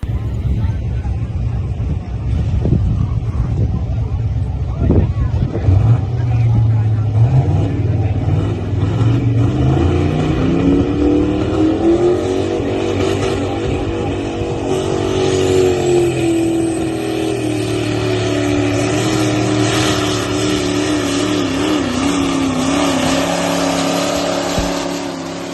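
A pulling truck's engine roars loud and sustained at a truck pullers championship in Nashville, its pitch climbing and holding as it strains, with crowd chatter mixed underneath.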